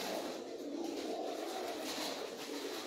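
Pigeons kept for pigeon flying cooing softly, a low continuous murmur of coos from nearby birds, fairly faint with no talk.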